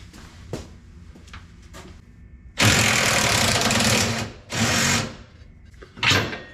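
A powered wrench undoing bolts on a 1964 Buick Riviera while bagging the car: three loud, close whirring bursts of different lengths, separated by quiet gaps with small clicks and taps.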